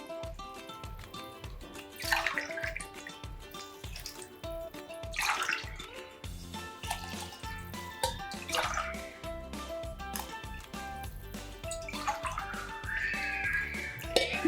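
Water pours into basmati rice in a pot for veg fried rice, a faint splashing, trickling stream under soft background music with occasional louder gurgles.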